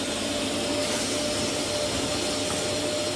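Vacuum cleaner running continuously up in a roof space during insulation and ducted heating work, a steady loud droning whoosh with a faint tonal hum and no break or talk over it.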